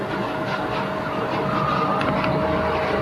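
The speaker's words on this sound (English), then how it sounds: "Noise in the background is the air conditioner." An air conditioner runs as a steady, broadband whooshing hum with a faint tonal whine, constant and unchanging throughout, with no talk.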